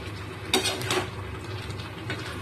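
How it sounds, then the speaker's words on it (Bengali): A spoon stirs a pot of pickle made with plum, mango, jaggery and spices, giving a couple of close scraping clanks against the pot over a soft, steady sizzle, with no talking. "এবার কিন্তু কুল, আম, গুড় আর মশলা ভালো করে কিন্তু নাড়াচাড়া করব"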